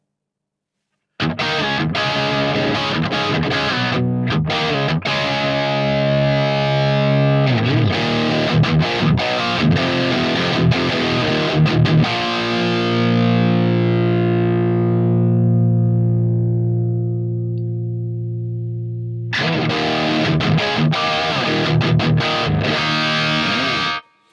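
Heavily distorted electric guitar through an amp model preset on a DIMEHEAD NAM player pedal chugs through riffs, then lets a chord ring out and slowly decay before the crunchy playing starts again.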